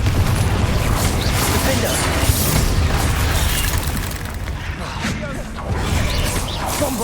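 The Bombarda blasting spell explodes in the video game Hogwarts Legacy, giving a dense rumbling blast with crashing debris that stays loud for several seconds before easing off slightly and then swelling again.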